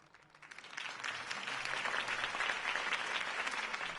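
A crowd in a video game bursts into applause, swelling from quiet to a sustained, even clapping that continues throughout.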